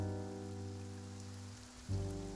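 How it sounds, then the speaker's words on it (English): Steady rain patters on surfaces in the video game Genshin Impact, a constant soft hiss beneath low humming tones that briefly dip and then return a little louder. No voices. "It's raining."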